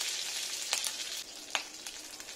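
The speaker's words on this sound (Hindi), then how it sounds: "कढ़ाई में थोड़ा सा तेल लेते हैं, राई डालते हैं, बहुत ही बेसिक मसालों से बनाना है। मेथी डालते हैं थोड़ी सी" Mustard seeds and fenugreek sizzle in hot oil in a kadhai for a raw mango dal tempering, a soft steady crackle with a few sharp pops close by.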